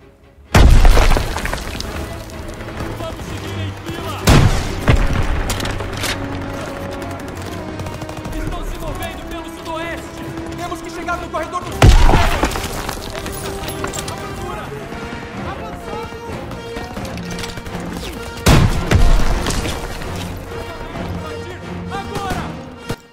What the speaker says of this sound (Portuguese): Granada, velho.